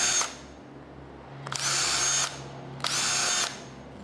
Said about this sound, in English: then drilled all the way through them.